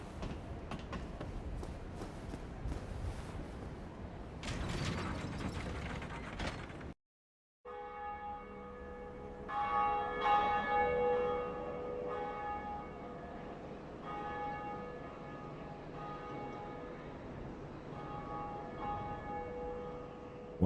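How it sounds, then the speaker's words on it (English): Bell tolling in Dark Souls Remastered, first a noisy mechanical churn, then after a brief silence a resonant bell with long sustained metallic overtones ringing out and slowly decaying, struck again partway through. "the first bell has been rung"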